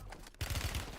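Burst of automatic gunfire in the Warzone battle royale game, starting abruptly after a brief quiet moment and continuing as rapid, closely spaced shots at fairly low overall level, with no talk.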